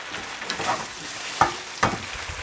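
Tofu strips fry in a lightly oiled pan over medium heat, giving a soft, steady sizzle broken by a few sharper scrapes and stirs, close by and moderately loud, with no voices.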